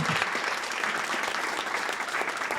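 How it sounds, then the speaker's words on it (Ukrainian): Dense, continuous audience applause at a women's community event, even and fairly loud throughout with no speech over it. "Під ваші оплески дякуємо вам."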